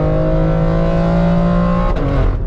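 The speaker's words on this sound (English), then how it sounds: "Literally, flatten the throttle." A BMW X3 M with the S58 engine and 8-speed ZF gearbox accelerates at full throttle, giving a loud, steady engine roar heard from close by. The pitch holds high and level, then dips briefly near the end as the gear shifts.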